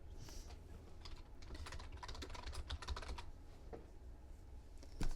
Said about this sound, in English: type your first and last names after the word from